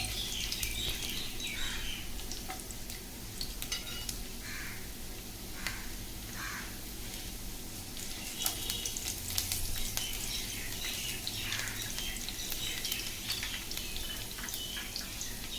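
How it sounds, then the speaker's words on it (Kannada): Chopped garlic and ginger fry in hot oil for egg fried rice, giving a steady, close crackling sizzle throughout with small pops and spits, no voices. "ನಾನೀಗ ಸಣ್ಣದಾಗಿ ಹೆಚ್ಕೊಂಡಿರೋ ಬೆಳ್ಳುಳ್ಳಿ ಮತ್ತು ಶುಂಠಿನ ಹಾಕ್ಕೊಳ್ತಾ ಇದ್ದೀನಿ"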